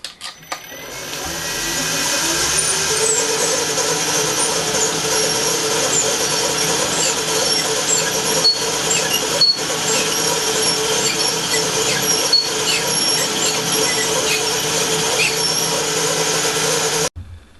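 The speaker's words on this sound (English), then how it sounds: "then cut accurately in my milling machine" A milling machine cuts rebates in wooden cross pieces, a close, steady high-pitched whine with a squealing edge that holds for about fifteen seconds before stopping abruptly.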